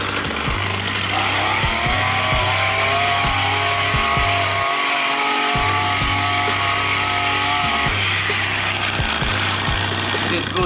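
A gas string trimmer cuts grass around a mulched bed, running at a steady loud whine with brief engine pauses and revs throughout, close and continuous with no speech over it.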